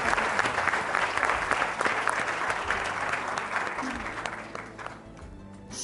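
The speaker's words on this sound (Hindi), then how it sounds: "उस्मा के लिए तालियां तो बजा देना जी" A studio audience on a Pakistani television talk show breaks into sustained applause, dense and steady clapping that fades slightly near the end, with some crowd murmur mixed in.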